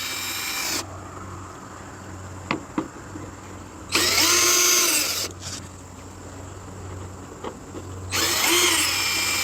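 Power drill removing the headlight screws on a 2015 Chevy Malibu, whirring in three loud, close bursts with quieter clicks and handling noise between them.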